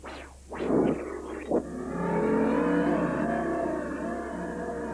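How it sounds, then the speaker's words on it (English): A motorcycle engine sound effect for a Suzuki commercial revs up in short bursts, then settles into a steady, sustained drone, fairly close and loud with no talking. "In creating the cycle sound in the Suzuki commercial"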